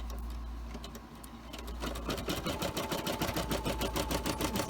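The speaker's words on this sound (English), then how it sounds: "let's have it start sewing it out" A Brother embroidery machine stitches a small heart onto a hat held in a hoop, its needle chattering in a fast, steady mechanical rhythm after a quieter motor hum at the start, close and continuous.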